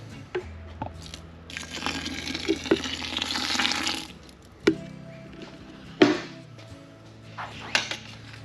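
Close, wet sloshing and thick crunching as a grainy beer mash is stirred in a Grainfather G30, with a few sharp knocks against the vessel between stirring strokes.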